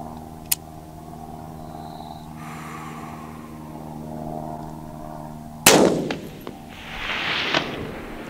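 A 6.5 Grendel rifle shot at a steel target on a hillside at 450 to 560 yards, a single loud sharp report followed by a faint distant ring of the hit, over a steady low hum.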